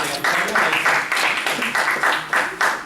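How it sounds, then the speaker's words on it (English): An audience applauds guests at an immigration Q&A session, steady mid-sized clapping with distinct pulses of claps throughout, close and fairly loud. "Give them another round of applause."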